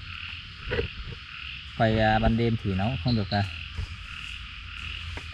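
A frog croaks at night during the rainy season, giving a cluster of loud, close, throaty croaks in the middle over a steady insect-like hiss. Someone speaks softly nearby.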